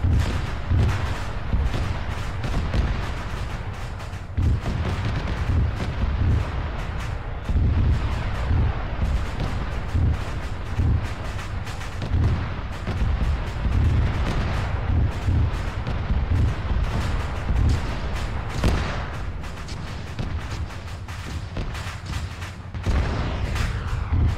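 Mortar rounds fire in an Arma 3 co-op firefight, a dense run of loud, close thumping blasts and gunfire repeating with little pause.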